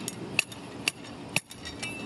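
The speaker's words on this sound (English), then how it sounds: "you use this end as the slide hammer, where you put it over the stake" A slide hammer drives a driveway snow stake into the ground, giving three sharp, evenly spaced metallic strikes about half a second apart, close and clear with no talk.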